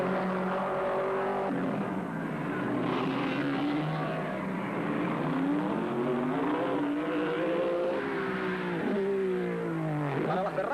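Racing cars from a film about Fangio and Ferrari roar continuously, engines rising and falling in pitch through gear changes and passes, loud and sustained without a break.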